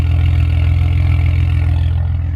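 A Saab 9-3 Turbo X engine idles steadily through its muffler, a loud, deep, even rumble with a pulsing low throb and no voices.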